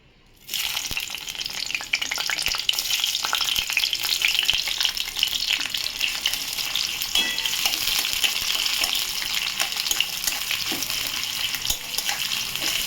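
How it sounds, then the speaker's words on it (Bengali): Onions frying in mustard oil in a wok give a loud, steady sizzle that begins abruptly within the first second and crackles on without a break, close up, with no voices. "পেঁয়াজটা ভাজা ভাজা করে দিচ্ছি বন্ধুরা"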